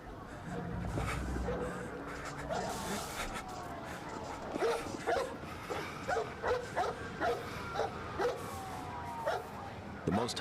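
Several dogs bark in a repeated run of sharp barks, partly under a voice speaking over them, in a search and rescue dog advertisement.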